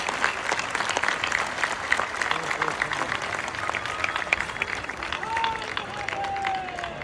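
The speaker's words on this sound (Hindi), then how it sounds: "हाँ, थोड़ा सा और जोर से तालियां बजाओ अपनी स्टेट के लिए।" A crowd claps loudly for the state of Uttarakhand on its formation day, a busy continuous patter of many hands with crowd noise and some voices mixed in.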